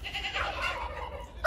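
Call ducks quack and chatter nearby in a backyard flock, a brief burst of nasal calls over soft background noise.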